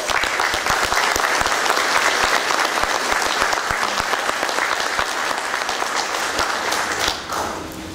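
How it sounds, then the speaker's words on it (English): Sustained, loud crowd applause at an army battalion retirement ceremony for a master sergeant, dense clapping holding steady for about seven seconds before thinning out near the end. "round of applause"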